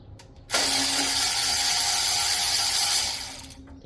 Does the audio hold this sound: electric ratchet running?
yes